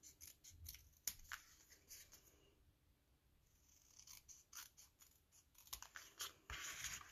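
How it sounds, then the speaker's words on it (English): Scissors snipping through washi tape on a handmade card, a few close, crisp cuts with soft paper rustles in between, fairly quiet and with no talking. "Just going to trim it off."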